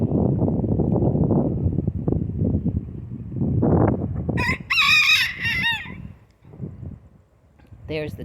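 A rooster crows loudly and nearby partway through, one long cock-a-doodle-doo with a brief second call at the end, heard after a stretch of talking and wind noise on the microphone.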